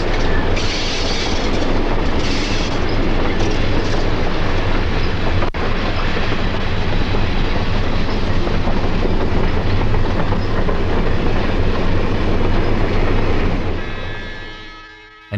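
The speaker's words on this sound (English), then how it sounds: "number 801 heads east with its caboose" A South Shore interurban train with a caboose rumbles steadily past eastbound at close range with rhythmic clickety-clack of wheels on rails, fading out at the end.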